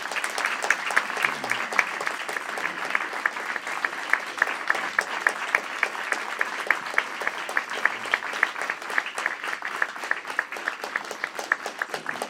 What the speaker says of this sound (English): You're going to applaud now for our candidates.